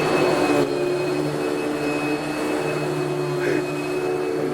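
A steady vacuum cleaner motor drones loudly throughout, with a constant high whine over a low rumble.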